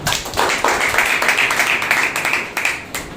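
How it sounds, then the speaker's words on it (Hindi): A church congregation applauds loudly during a Wednesday service, dense sustained clapping from many hands filling the room for the full span, with no talk over it. "परमेश्वर के लिए पहले एक बार जोरदार तालियां"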